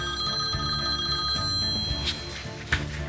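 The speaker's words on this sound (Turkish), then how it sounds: "Telefona bak istersen sen." A telephone rings indoors in a Turkish TV drama scene. The bell trills repeatedly and loudly, carrying on steadily for the whole moment with only faint background noise.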